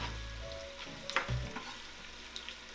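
Chopped onions and reindeer sausage heating in a pan, a soft steady sizzle with a few stirring scrapes and clinks near the close, and no talking.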